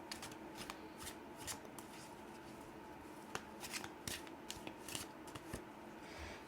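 Tarot cards being shuffled by hand, a run of quick riffling rustles and soft snaps, close and fairly faint with no voice over them.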